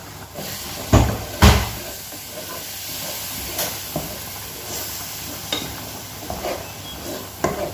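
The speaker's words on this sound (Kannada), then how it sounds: "ಚೆನ್ನಾಗಿ ಫ್ರೈ ಆಗಬೇಕು ಇದು ಸ್ವಲ್ಪ ಹಂಗೆ ಚಮಚ ಹಾಕಿ ತಿರುಗಿಸ್ತಾ ಇರಬೇಕು" Ground masala for restaurant-style paneer masala frying in a pan, with a spoon stirring through it: a steady low sizzle broken by a few sharp scraping knocks against the pan, no talking.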